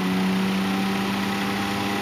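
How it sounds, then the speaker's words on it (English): A small personal box fan runs on medium speed with a steady, close, continuous whir and hum that holds at an even level throughout. "But let's see what medium sounds like."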